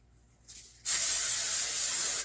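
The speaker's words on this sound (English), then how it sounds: "We're gonna spray this pan." Pam cooking spray hisses from an aerosol can onto a pan in one continuous, loud, close burst lasting over a second after a brief soft click.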